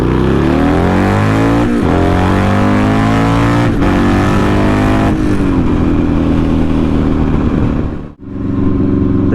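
A Buell XB9S V-twin motorcycle engine pulls hard through several rising acceleration sweeps, loud and close with wind rush, each rev climbing before a shift, easing off briefly near the end.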